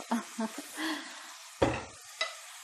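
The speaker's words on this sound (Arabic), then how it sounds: "خلط مليح، نخليها تقلى شويه تتشرب بالبنبي" Swiss chard being stirred and fried in a pan, soft sizzling under several distinct scraping stirs and a couple of sharp utensil knocks against the pan.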